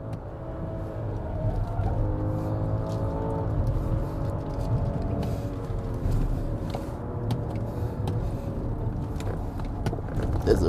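BMW X5 45e plug-in hybrid SUV, 400 hp and 2.4 tonnes, climbing the Genting hill road, with a steady low engine and road drone, rising tones as it pulls uphill, and occasional faint cabin noises.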